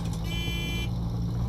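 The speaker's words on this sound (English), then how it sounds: "Did I just beep the horn by accident?" A truck horn in the SnowRunner off-road driving game gives a single short steady honk of about half a second over a low idling engine rumble.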